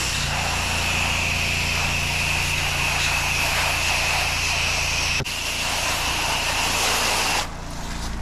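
Steady roar of an 8 gallon per minute power washer spraying a house, loud and continuous with a strong engine drone, cutting briefly near the end.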